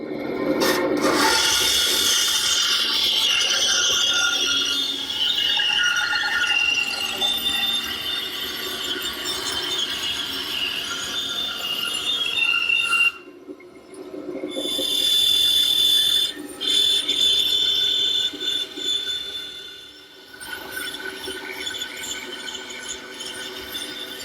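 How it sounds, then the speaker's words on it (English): A bandsaw cuts a wooden table top following a traced template, a steady rasping whine running for long stretches, broken by brief pauses as the blade clears the workpiece and the cut resumes. "And we'll cut it out at the bandsaw."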